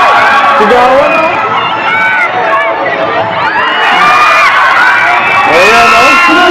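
A crowd at a Duterte political rally shouts and cheers in a loud, continuous roar of mixed voices, with whoops and a voice talking over the din.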